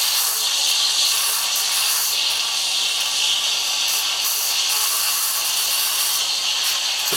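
The steam wand of an Atomic coffee machine froths milk, making a constant, steady, loud hiss with a faint bubbling texture that continues without a break.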